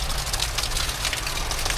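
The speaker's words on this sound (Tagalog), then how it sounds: "Ayaw tumigil ng ulan guys." Steady rain falling outdoors at an old house, a dense continuous hiss with a low rumble beneath it.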